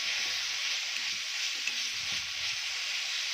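Green chilli paste (thecha) sautéing in a hot pan for a green pea recipe, a steady close sizzle and crackle running unbroken throughout, no voices.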